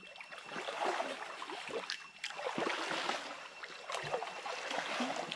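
Soft rushing water of a mountain stream flows steadily over huge boulders in a forest, faint and hissing, with occasional splashes and light knocks on top.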